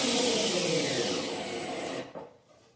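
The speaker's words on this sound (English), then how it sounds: "I'm going to have a secure grip and making sure my hands are out of the way as I drill down." A power drill bores down into a wooden box, a steady loud whirring drone that holds for about two seconds, then cuts off abruptly and winds down into near silence.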